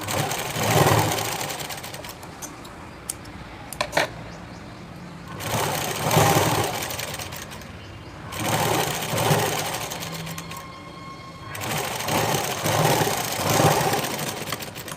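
A sewing machine stitching a blouse runs in several loud, whirring bursts of a few seconds each, separated by quieter pauses with small clicks as the fabric is adjusted.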